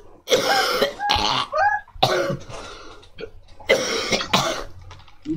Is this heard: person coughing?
yes